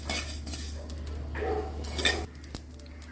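Fenugreek and spices frying in a pan while being stirred, a steady close scrape and clatter of a spoon against metal with a soft sizzle underneath, louder in the middle of the stretch.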